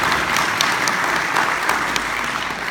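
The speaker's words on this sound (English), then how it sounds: "Big round of applause." An audience at an evening public meeting claps together in a dense, steady burst of applause that stays loud and even from start to finish.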